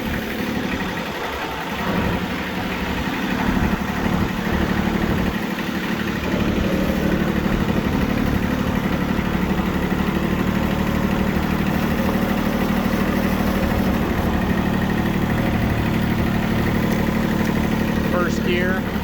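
International 244 tractor engine running at about 1500 RPM in reverse, a loud steady mid-pitched engine drone held throughout at close range.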